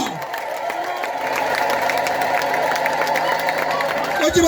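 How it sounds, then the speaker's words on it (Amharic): A church congregation ululates and applauds together, a dense sustained wash of clapping and high trilling cheers that stays loud throughout and swells slightly near the end. "ለዚህ ጌታ እልልታ፣ ጭብጨባ"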